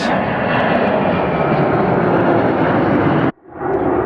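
A fixed-wing airliner takes off from a runway at Atlanta Hartsfield-Jackson airport, a loud, continuous broadband engine roar close by that drops away abruptly near the end before partially returning.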